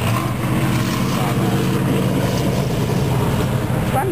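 A 1978 Dodge race car known as 'the Animal' runs a mountain hill climb course, its engine a steady, loud, continuous roar with wind noise throughout, and no clear voices over it.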